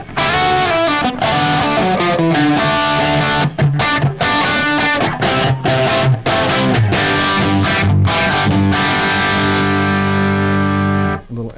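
Electric guitar played through a Rat distortion pedal and a Klon overdrive with a touch of echo and room sound, loud, thick, sustained chords with a few brief stops, filling the whole passage without talk.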